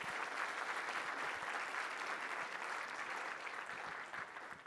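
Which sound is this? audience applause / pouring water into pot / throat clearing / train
audience applause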